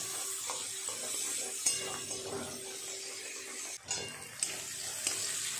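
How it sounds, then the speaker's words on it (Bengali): Soft, steady sizzling of onions frying in a pan, with occasional scraping and stirring clicks, fairly quiet and close. "খুব ভালো করে নেড়ে চেড়ে পেঁয়াজটা লাল করে আগে ভেজে নিতে হবে"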